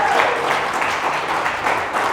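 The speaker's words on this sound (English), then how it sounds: "Can I get a round of applause for them?" A live audience at a sport and community talk claps steadily in a dense, even burst of many hands, with no voices over it.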